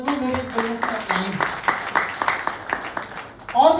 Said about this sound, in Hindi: ऐसे सभी गुरुओं के लिए मैं जोरदार तालियां चाहूंगा जो मेरे बिजनेस में आए।